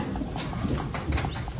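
Heifers' hooves clatter on a semi trailer's floor during cattle loading, a quick, uneven run of close, moderately loud knocks and thumps over a low background rumble.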